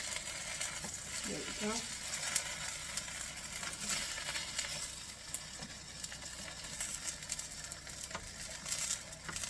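Fried green tomatoes sizzle steadily in a pan, a soft continuous crackle and hiss with occasional sharper pops, while a voice speaks briefly over the cooking.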